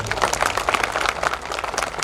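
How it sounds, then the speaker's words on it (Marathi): Audience clapping and applause for a photographer at a motivational speech event, a steady, dense patter of many hands close by, lasting a couple of seconds. "यानंतरच्या विशेष टाळ्या वाजवा फोटोग्राफरसाठी"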